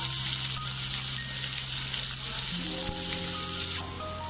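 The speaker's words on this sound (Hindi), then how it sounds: "तो अब चलिए ऑयल अब हो गया है गरम, तो यहीं पे डालेंगे रफली चॉप किया हुआ प्याज" Roughly chopped onion dropped into hot oil in a kadhai, a steady dense sizzle of frying with a brighter burst partway through as the pieces hit the oil; no talking.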